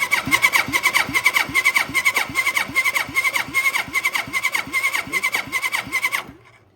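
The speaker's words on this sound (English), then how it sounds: "So we're going to do a compression test" A 1979 Suzuki GS1000E engine is cranked over on the starter during a compression test, giving a loud, rapid, even chugging rhythm that runs for several seconds and then stops abruptly.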